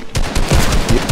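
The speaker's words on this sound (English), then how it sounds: "I just heard the gunshots" Rapid burst of automatic gunfire in the Fortnite video game, several loud close shots in quick succession filling about a second, with no talk.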